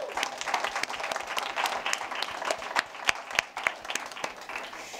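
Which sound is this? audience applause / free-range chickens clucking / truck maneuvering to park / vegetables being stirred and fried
audience applause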